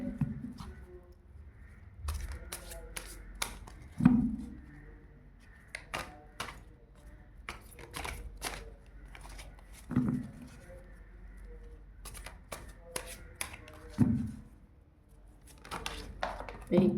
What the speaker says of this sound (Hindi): तो चलिए कार्ड को शफल कर लेते हैं।